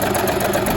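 Bernette B35 domestic sewing machine running a horizontal zigzag stitch, a steady close mechanical whirr with a fast even rhythm that runs without a break.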